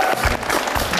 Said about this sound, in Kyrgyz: Бейше мырзага кол чаап койгула